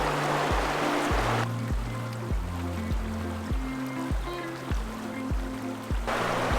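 Steady rushing water from a cold, glacier-fed mountain creek in the Italian Dolomites flows throughout, with low, rhythmic thumping tones layered over it.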